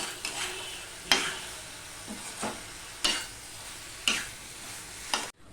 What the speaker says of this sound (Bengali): এবার যে ভেজে রাখা পটলগুলো সেগুলোও আমি দিয়ে দিলাম দিয়ে আমি একটুখানি কষিয়ে নেবো